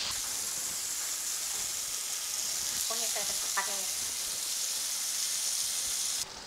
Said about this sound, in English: turn the fish to cook it on other side.